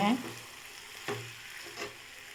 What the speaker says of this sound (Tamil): எல்லாத்தையும் சேர்த்து நல்லா வதக்கிக்கோங்க நல்லா சுருளை வதக்கிக்கோங்க